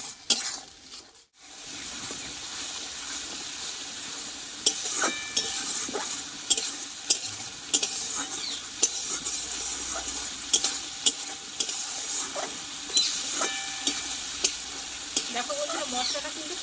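Ground spice masala stir-fries in hot oil for a vegetarian potol (pointed gourd) dish, a steady sizzle broken by repeated sharp scrapes and clinks of a spatula against the pan, close and continuous after a brief pause near the start.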